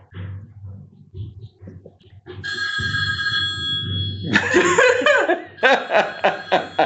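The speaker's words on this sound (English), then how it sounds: "His phone rings." A telephone rings with a steady electronic trill, followed by laughter and chuckling from several people over low background noise.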